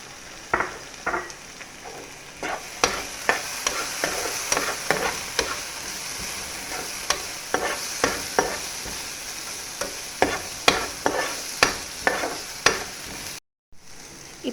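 Chopped tomato frying and being stirred in a pan, with a steady sizzle under repeated sharp scraping strokes of a spoon, close and fairly loud, with no talking.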